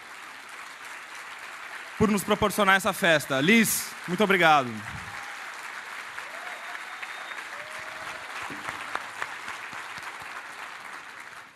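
Audience applause at the Flip 2015 literary festival rises between speech at about two and five seconds, then settles into a steady hall murmur with a voice speaking over it.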